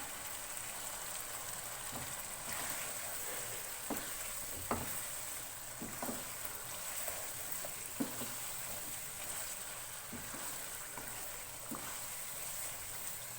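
Green chicken hariyali curry with green chillies and coriander being stirred in a pan, giving a steady soft sizzle with faint scraping strokes throughout, no voices.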